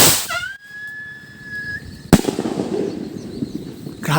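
A homemade firecracker lifter set off from a Yakult bottle gives a thin rising whistle, then one sharp, loud bang close by, followed by a noisy rumbling tail of outdoor crackle.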